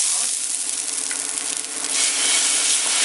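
Dosa batter topped with egg for an egg roast sizzles steadily on a hot pan, a close, continuous frying hiss with a brief scrape or stir partway through, and no talking.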